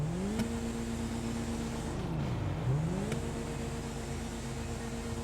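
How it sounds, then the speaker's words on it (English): Canis Castigator car in GTA Online, a steady engine drone with a quiet exhaust, rising in pitch, briefly dipping as the throttle eases, then climbing again, close and even throughout. "That's a really quiet exhaust."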